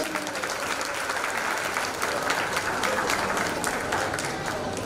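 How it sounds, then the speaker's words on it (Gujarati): Audience at a community get-together clapping, a dense, sustained burst of many hands applauding at moderate distance, steady throughout. "તાળીઓથી વધાવી દે."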